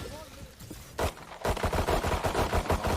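Pistols fire rapidly during a pro Valorant esports match. Sharp single shots give way to a dense, steady run of gunfire under busy game noise and a caster's commentary.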